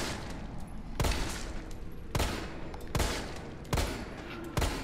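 Gunshots fired at a monster in Resident Evil 3, five loud sharp blasts spaced roughly a second apart, each with a short echoing tail over a low game ambience.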